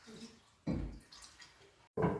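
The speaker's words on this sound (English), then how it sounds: "And now I'm going to rinse this out again." Homemade butter is rinsed with water, giving bursts of splashing and sloshing liquid close by, separated by quieter dripping pauses.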